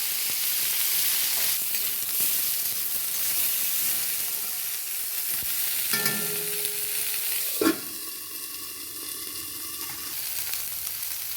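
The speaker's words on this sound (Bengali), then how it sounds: "একটু জিরে ফোড়ন দেওয়া হলো তারপর উচ্ছা আর আলুটা একসঙ্গে দিয়ে" Bitter gourd and potato pieces frying in oil over a cumin tempering give a loud continuous sizzle and hiss, with brief stirring scrapes and a sharp clatter near the end, no talking.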